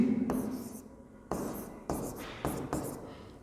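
Pen or chalk strokes written by hand during a physics lesson on the vector form of Coulomb's law, four separate close scratchy bursts spaced unevenly, heard alone without talk.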